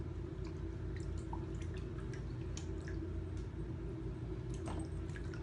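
A silk screen stencil is set upside down in water, making faint, scattered drips and small wet squishes over a steady low background hum.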